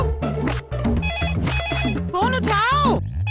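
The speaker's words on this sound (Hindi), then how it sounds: "फोन उठाओ" Telephone ringing in a Kurkure family advertisement: repeated bright electronic ring bursts over a musical backing, with voices and sweeping tones around them, loud and close.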